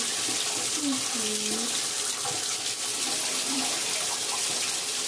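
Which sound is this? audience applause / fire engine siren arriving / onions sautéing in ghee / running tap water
running tap water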